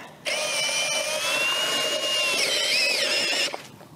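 A cordless drill boring through ice whines steadily for a few seconds, its pitch wavering and rising near the end before cutting off abruptly.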